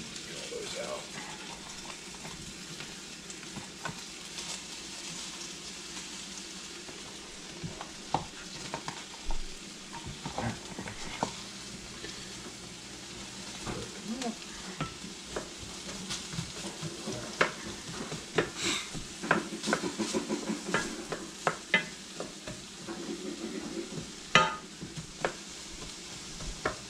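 Pieces of food sizzle and fry in a hot pan while being stirred and broken up to brown, with steady crackling and scraping of a utensil close by, and someone talks briefly over it.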